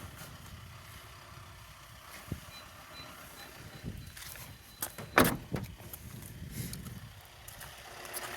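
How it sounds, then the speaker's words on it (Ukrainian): The rear tailgate of a 2017 Volkswagen Transporter 2.0 is swung open and shut, with faint mechanical creaks and a few thumps, one sharp slam standing out near the middle against a quiet outdoor background. "Задня ляда також чудово відкривається закривається."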